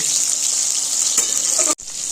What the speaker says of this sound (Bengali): এইভাবে উল্টে পাল্টে লাল করে পুরো দুদিকটাই ভেজে নেব।